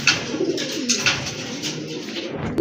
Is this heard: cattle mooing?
no